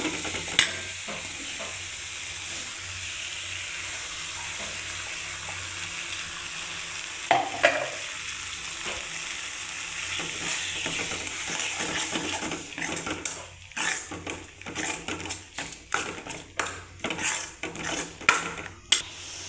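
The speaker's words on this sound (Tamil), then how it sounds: "இப்போ வந்து நம்ம மசாலா ஊற்றி வதக்கிக்கலாம்" Masala for egg kurma sizzles and fries in a pan after the tomatoes, with a steady hiss, then rhythmic scraping and clinking of a spoon stirring against the metal toward the end.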